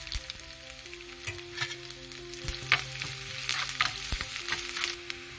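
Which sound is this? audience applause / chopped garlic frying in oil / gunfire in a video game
chopped garlic frying in oil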